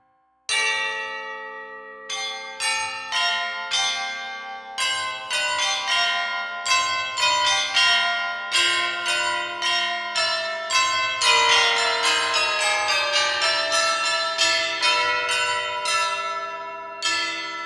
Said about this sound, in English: this is the high bells